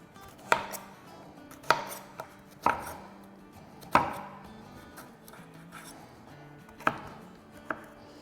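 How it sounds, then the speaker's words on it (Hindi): Raw mango being cut into small pieces with a knife on a board: six or so sharp, distinct chops spaced irregularly, close and fairly quiet, with faint background hum between strokes. "छोटे छोटे पीसेस कर लेंगे।"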